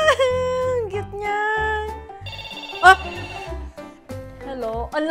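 A large toy telephone rings out in bright electronic melodic tones in several bursts, loud and near, under excited talking and exclamations.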